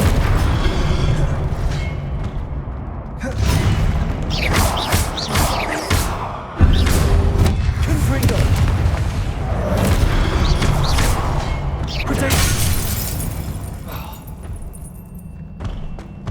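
Hogwarts Legacy spellcasting in combat, with Incendio and Confringo blasts landing as repeated booming thuds and whooshes, one heavy impact near the middle and crackling bursts later, while a voice speaks intermittently.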